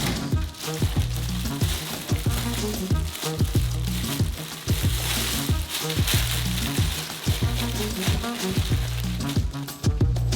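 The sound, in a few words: chocolate melting and stirred in saucepan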